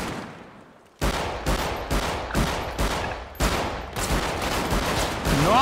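Gunfire in the game GTA 5: after a quiet fading start, a string of about nine sharp, loud shots cracks out at irregular intervals, each echoing briefly into the next, with no talk.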